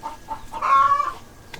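Hens on a backyard farm let out a short run of clucks that swell into one louder, drawn-out squawk, close by and alone, with a faint chirp trailing after.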